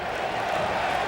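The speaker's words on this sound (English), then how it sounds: "More applause as some Mets go out to the field to loosen up in preparation of this game" Stadium crowd applauding in a steady, dense wash of noise as New York Mets players take the field to warm up before a game, a continuous roar with no breaks.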